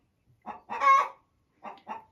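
A hen clucks just after laying an egg, giving a drawn-out cackle followed by two shorter clucks, close and clear with silence between calls.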